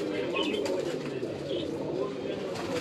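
Amritsari pigeons keep up a low, continuous cooing in a loft, a dense murmur from several birds with a few brief higher chirps over the top.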